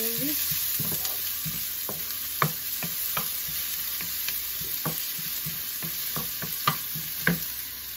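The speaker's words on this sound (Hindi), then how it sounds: "प्याज डाल के हम इसे चला लेंगे." Onions sizzle in hot oil in a pan with mustard seeds for Kerala-style moru, a spoon scraping and stirring in irregular clicks over a constant hiss, close and moderately loud, with no talk.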